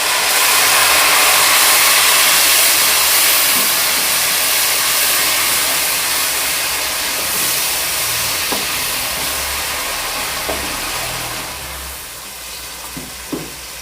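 Tomatoes hit onions frying in a pan, giving a loud, steady sizzle and hiss that eases slightly over time, with a few faint clinks near the end.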